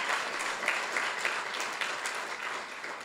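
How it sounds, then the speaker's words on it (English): Applause from a school awards audience, steady dense clapping filling the room at a constant level throughout. "let's give her a round of applause for all the students in her classroom"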